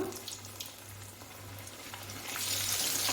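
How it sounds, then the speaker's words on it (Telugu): Fish pieces fry in a pan over low heat, giving a soft, steady sizzle and crackle that swells slightly toward the end, close by and without talk. "సిమ్లో పెట్టేసి వేగించేసుకోవటమే ఇది ఒకవైపు వేగిన తర్వాత టర్న్ చేసుకుని రెండో వైపు కూడా వేగించుకోవాలి"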